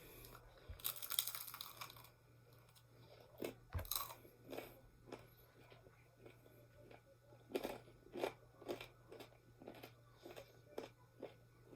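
Dry baked hardtack biscuit being bitten and chewed close to the mic, with a loud crisp bite early on, another sharp crack near four seconds, then a run of steady crunchy chews; no talking.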